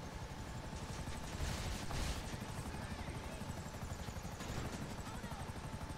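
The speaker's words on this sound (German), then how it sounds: "Helikopterunterstützung." Helicopter support arriving during a heist in GTA Online, its steady rotor thrum loud and continuous throughout, mixed with game noise and bursts that may be gunfire while players talk over it.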